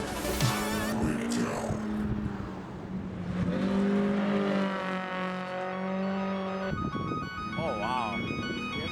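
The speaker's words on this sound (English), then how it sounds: "some of them doing like a bit of a Scandinavian flick as they enter the corner, sliding out of the corner" Rally cars slide through a corner on a snowy winter stage, with engine revs rising and falling as they flick into the bend. Spectators talk and shout excitedly over the engine noise.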